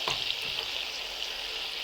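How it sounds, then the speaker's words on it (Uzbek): Chuponcha sizzles steadily while it fries and browns in a pan, a close, even hiss with a few light pops and no talking. "Hozir endi qizartirib qovurib olamizda"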